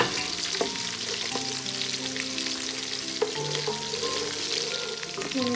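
Garlic and green chilies sizzle in hot tempering oil, a steady crackling fry close up, with occasional clinks of a utensil stirring in the pan and no talking.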